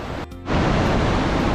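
Nanemachi waterfall in the Sahyadri hills pours in a loud, steady broadband roar that swells in after a brief dip and then holds constant, close and unbroken.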